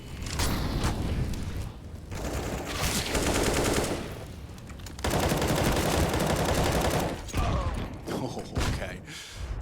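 Counter-Strike: Global Offensive match on Inferno fills with dense, loud gunfire: rapid automatic bursts, single shots and booming grenade blasts that come in sustained waves, while an announcer talks over the action.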